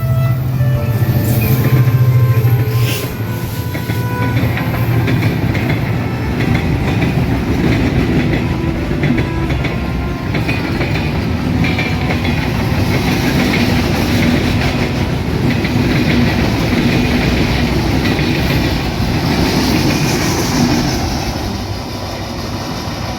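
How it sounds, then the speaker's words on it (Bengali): The Silahati Express, hauled by an American locomotive, runs through Raninagar railway station on line 1 toward Dhaka. A loud, close, steady rumble of wheels with continuous clickety-clack carries on for over twenty seconds. "ঢাকাগামী 806 down Chilahati express Raninagar rail স্টেশনে 1 নম্বর লাইন দিয়ে থ্রুপাস করে চলে যাচ্ছে ঢাকা অভিমুখে"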